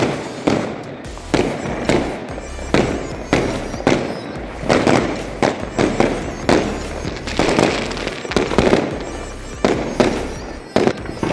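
A 30-shot fireworks cake set off for Diwali fires a steady run of sharp, loud bursts about every half second to second, each launch pop followed by crackling, outdoors with no talk.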